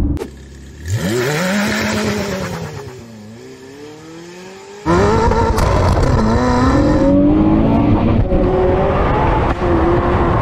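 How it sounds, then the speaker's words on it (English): Zenvo TSR-S supercar launching hard on a road with heavy wheel spin: a loud engine howl rises through the revs, dips at a shift, then surges again with screeching tyres, close and alone. "Oh, that's better, but still so much wheel spin."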